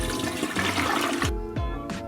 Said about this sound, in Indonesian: Tunjukkan padanya bahwa dengan memencet flush sendiri.